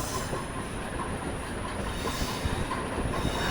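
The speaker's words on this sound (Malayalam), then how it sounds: "അങ്ങനെ നമ്മൾ മൂന്നാമത്തെ തുരങ്കത്തിലേക്ക് പ്രവേശിക്കുകയാണ്" A train heads into the third of five tunnels on a rail route toward Madurai, making a steady, loud rolling rumble with faint wheel clatter and a thin hiss throughout.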